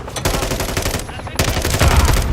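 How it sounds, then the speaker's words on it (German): Gunfire from the video game Call of Duty Modern Warfare 3 rips out in loud, rapid automatic bursts with a brief gap between two volleys. "Wer schießt da?"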